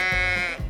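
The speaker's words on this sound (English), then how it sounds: "We have a ram." A ram (sheep) gives one loud, close, wavering bleat lasting under a second, with no voices.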